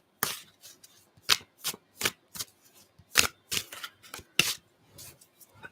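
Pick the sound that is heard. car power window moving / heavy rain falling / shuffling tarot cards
shuffling tarot cards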